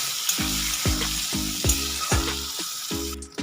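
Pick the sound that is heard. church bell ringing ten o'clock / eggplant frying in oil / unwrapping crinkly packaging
eggplant frying in oil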